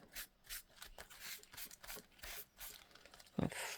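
Glued paper is rubbed down by hand onto a handmade journal built from scrap materials, giving soft, close rasping strokes that repeat in an uneven rhythm, ending in a slightly sharper scrape.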